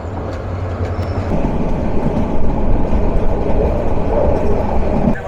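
Train number 704 pulls into Kishoreganj railway station, a steady loud low rumble of wheels and carriages rolling over the rails, building slightly and holding throughout with no voices.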